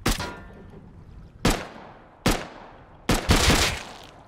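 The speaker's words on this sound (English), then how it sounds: "next layer up's shooting at us too, though" Gunshots in the video game Rust, four loud, sharp reports a second or so apart, each trailing into a decaying echo, with the last one followed by a short burst.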